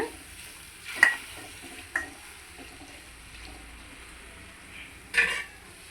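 A spoon stirs turmeric into water in a cooking pot, with three brief scraping clinks spaced apart over a low, steady bubbling hiss.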